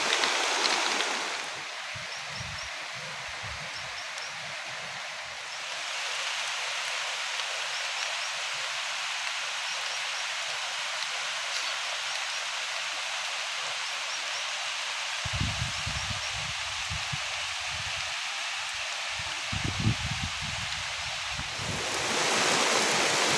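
Heavy rain pours with gusting wind at a farm, a loud continuous broadband roar lasting the whole stretch, with rumbling wind buffets on the microphone toward the end.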